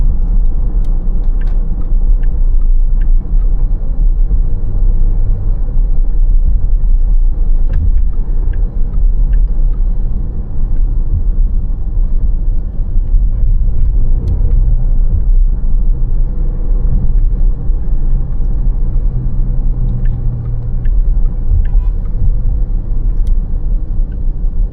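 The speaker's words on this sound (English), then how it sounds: "So this is completely the base exhaust." A Porsche Panamera engine rumbles steadily through its base factory exhaust, a deep continuous drone with slight swells in revs, heard alone without voices.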